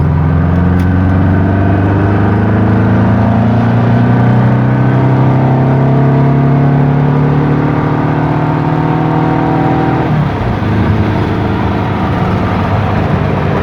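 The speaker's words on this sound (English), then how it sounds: "Going back on the freeway. One more high rev." A Volkswagen Bug with a Type 4 engine revs high on the freeway, a loud, steady engine drone whose pitch climbs steadily before dropping sharply as it shifts, then resumes, with no talking.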